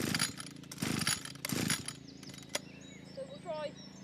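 A Stihl FS81 brush cutter with a carburetor needing adjustment, its small two-stroke engine pulsing in uneven bursts as it bogs down, then fading while faint tones and a voice-like sound follow.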